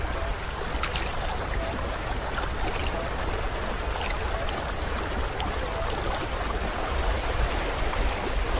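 Yellow River water flows past a hillside village of jujube orchards, a constant near rushing and gurgling stream that stays steady and loud for the whole stretch, with no voices.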